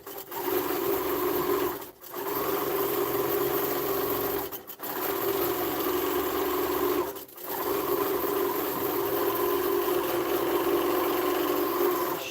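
A Baby Lock Gallant XL long arm quilting machine stitches across a quilt with a steady motorized hum, stopping briefly three times before resuming, close and without talk.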